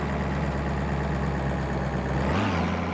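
Car engine idling steadily in the My Garage video game, with an unknown fault. It holds a constant low hum, then the pitch drops slightly near the end, with no talk.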